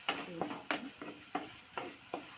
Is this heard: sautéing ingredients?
yes